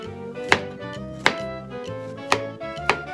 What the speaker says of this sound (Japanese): バナナとイチゴをちょっとね包丁で切って上から乗せます。